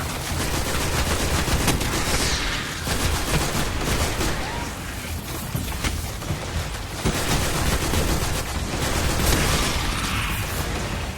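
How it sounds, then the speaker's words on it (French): Rapid gunfire from the shooter video game Destiny, a dense, continuous barrage of overlapping shots and bursts that stays loud for the whole stretch, swelling slightly at a few points. "Oh là là, je tire n'importe où là."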